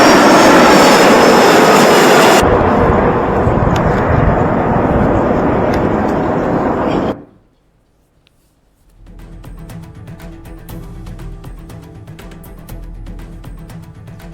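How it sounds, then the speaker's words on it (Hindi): A military plane lands with a loud roaring jet engine that cuts off abruptly, then after a short silence a quieter, distant hum returns. "ये विमान लैंड हुआ"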